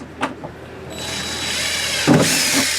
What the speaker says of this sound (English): then I can drill my pilot hole from the inside to the outside of the vehicle